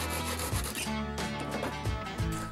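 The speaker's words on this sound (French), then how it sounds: "je finis de couper la tige avec une scie à métaux" Steady back-and-forth rasping of a hacksaw cutting through a metal rod, with rhythmic strokes, close and loud, no voices.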